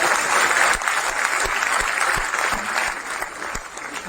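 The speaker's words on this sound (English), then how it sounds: "I don't know why you're clapping." An audience in a packed university lecture hall at JNU breaks into steady applause, a dense wash of many hands clapping that fades slightly toward the end, with no speech over it.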